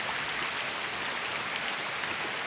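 Steady rain falls on a farm plantation while runoff water flows toward a stream, a dense, even hiss close around with no pauses and no voices.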